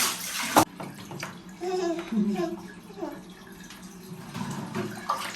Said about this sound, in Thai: เดี๋ยวเบลอาบน้ำเองกับเบลแล้ว